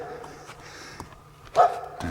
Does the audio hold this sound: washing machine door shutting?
no